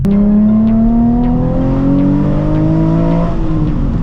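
A Nissan 350Z HR engine revving hard while driving, a loud, close exhaust note climbing steadily in pitch with short breaks at gear shifts, alone without talk.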